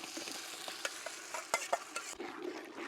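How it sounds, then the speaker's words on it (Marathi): Onion paste sautéed with spices in a pot over a wood-fired clay stove while cooking chicken dum biryani, giving a steady soft sizzle broken by scattered scraping clicks of a stirring spoon. "आता चांगल्याला परतून घेऊ आता टाकू आपण हे कांद्याची पेस्ट"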